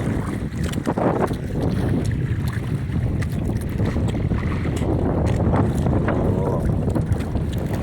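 Strong amihan wind blows at sea around a small fishing boat, making a continuous loud, buffeting roar of microphone wind noise mixed with water wash, with no clear talk.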